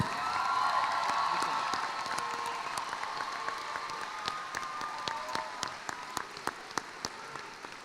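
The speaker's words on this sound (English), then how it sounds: "Please join me in a round of applause" A commencement crowd applauds a leadership award recipient, broad clapping with a few cheers and whoops that gradually thins into scattered, distinct claps toward the end.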